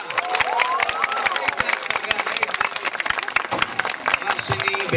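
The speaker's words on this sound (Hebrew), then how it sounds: "דבר ראשון, איפה מחיאות כפיים?" A crowd at a Passover holiday gathering in Kfar HaRoeh claps loudly and steadily, mixed with cheers, whistles and children's shouts, a lively, close wall of applause throughout.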